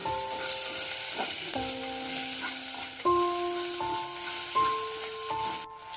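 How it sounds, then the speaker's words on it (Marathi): Tomato and onion sauté in hot oil for a village-style chicken rassa, a continuous crackling sizzle with stirring heard beneath steady tonal background music. "आता त्यामध्ये आपण टोमॅटो टाकू. तो पण चांगला परतून घ्यावा."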